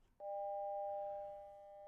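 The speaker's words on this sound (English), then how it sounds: "We have 2 tones, and one is at 600 hertz, and the other one is at 800 hertz." Two synthesized sine tones at 600 and 800 hertz, generated in p5.js, start abruptly and hold as a steady, clean electronic hum, loud and alone with no talking.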